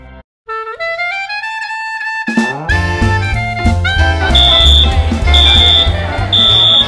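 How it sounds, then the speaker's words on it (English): A shrill school fire alarm sounds in repeated beeps over a loud, busy musical backdrop that swells in after a rising tone. "Fire alarm at school."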